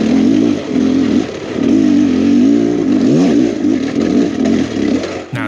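Beta Xtrainer 300 dirt bike on a trail at Wolfs Ridge, its engine revving up and down in loud close bursts with a pronounced throttle swell near the middle and a sudden cut at the end.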